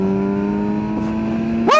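Kawasaki Versys 1000 adventure touring motorcycle with a steady engine hum that holds level, then surges sharply as the throttle opens near the end, loud and close.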